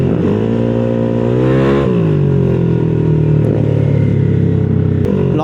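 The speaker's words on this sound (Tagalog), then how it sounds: "Lakas ng motor niya, no?" A light Mio motor scooter revs hard close by, its engine note climbing then dropping as it accelerates away, loud and steady throughout with no talking.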